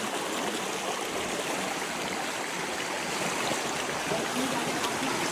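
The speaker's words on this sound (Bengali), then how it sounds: "আমরা ঝর্ণার স্রোত দেখে যাইতেছি।" Stream from the Silbunia waterfall in Bangladesh rushes steadily and close by, a dense, even wash of flowing water that holds constant through the whole stretch.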